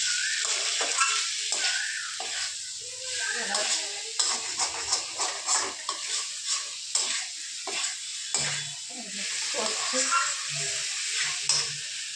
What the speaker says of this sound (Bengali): এবার নাড়তে থাকবো। এটা ভালো করে একটু কষিয়ে নিই